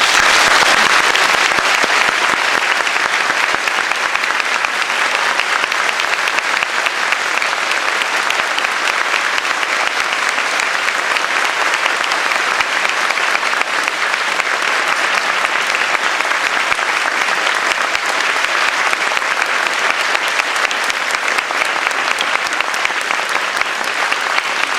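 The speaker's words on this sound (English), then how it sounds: "Please give a round of applause." Sustained, loud audience applause fills a university auditorium as a distinguished guest is welcomed onto the stage, dense steady clapping from a large crowd lasting the whole stretch without any talk.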